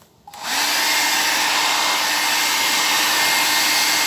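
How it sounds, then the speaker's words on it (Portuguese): A powerful hair dryer switches on and blows a loud, steady stream of air, drying freshly sprayed paint close by, with no voices. "esse secador de cabelo ele é bem potente para essas mãos molhadas"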